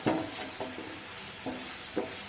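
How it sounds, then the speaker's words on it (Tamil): Spices and masala for chilli chapathi are sautéed in a pan: a quiet sizzle punctuated by four distinct spatula scrapes and stirring strokes at an irregular pace. "நல்லா வதக்கிப்போம்."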